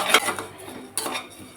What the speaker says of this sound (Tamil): கொஞ்சம் அவலை வந்து இதில் போட்டு அப்படியே வந்து அது லைட்டாக வந்து பொரிஞ்சு வரும்